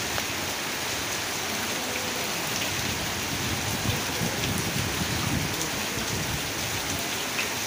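Heavy rain pours outside at night in a steady, dense, unbroken wash of sound, loud and close, with no voices.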